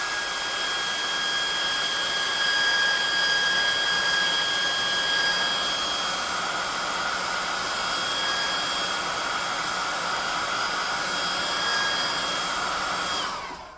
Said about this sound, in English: hit this with a blow dryer and knock off loose stuff